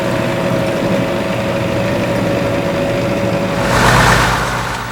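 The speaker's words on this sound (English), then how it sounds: "a truck carrying 39 dogs arrives from Louisiana" Truck carrying 39 dogs arriving at an animal rescue shelter, its engine rumbling steadily at idle before swelling briefly louder as it moves, no voices.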